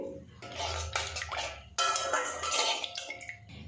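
Water is poured into masala frying in a pan, producing bursts of splashing, bubbling and sizzling with occasional clinks of utensils.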